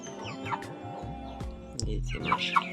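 Broiler chickens and other hens cluck softly in a backyard poultry pen, a string of short low clucks with a few sharper peeps, close and moderately loud, with no talking over them.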